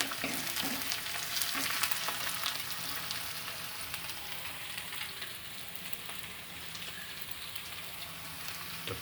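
Tomatoes fry in hot oil in a pan with a dense, continuous crackling sizzle like light rain, fairly quiet and steady throughout.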